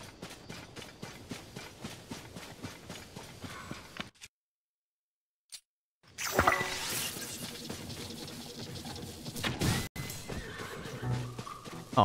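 A horse in Zelda: Tears of the Kingdom neighs and snorts over rhythmic clip-clopping hooves, then falls briefly silent before a loud whinny and more close hoof sounds.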